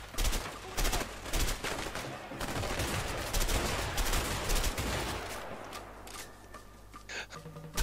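Shotgun blasts going off in a jungle firefight in the video game A Way Out, loud and dense in rapid bursts for several seconds before thinning out near the end.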